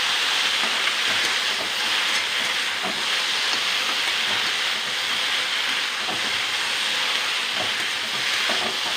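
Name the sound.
okra frying in a pan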